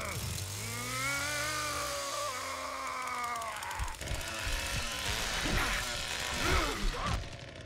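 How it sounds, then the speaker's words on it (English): A killer's chainsaw revving in a video game, rising and falling engine whine with rattling bursts, sustained and fairly close, with speech faintly present at times. "should I rev up the chainsaw"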